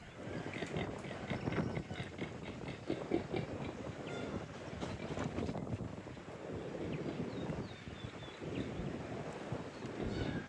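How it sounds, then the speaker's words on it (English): Strong north wind blowing outdoors on a homestead, steady loud rushing and buffeting against the microphone throughout with no pauses and no talking. "Whew. North wind,"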